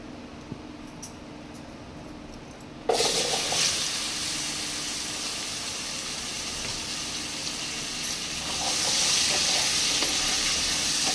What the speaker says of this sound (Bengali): এটাকে এবার লাল লাল করে ভেজে নেব।